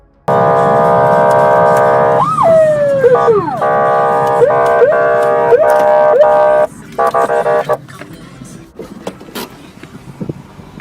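A loud police car siren wails nearby during a supercar chase in sustained tones with rapid pitch sweeps and yelps, then cuts off, leaving scattered clunks and background noise.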